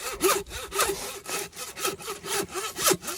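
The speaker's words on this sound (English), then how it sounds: "It varies how good you are at sawing it and how good the saw blade is and whatnot." A hand saw cuts down through a hog's spine during old-fashioned hog butchering, with rhythmic back-and-forth strokes, about six per three seconds, close and fairly loud with no talk.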